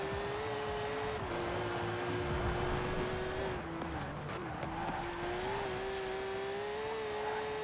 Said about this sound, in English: Having a flat 6 in a Macan is actually kind of sick.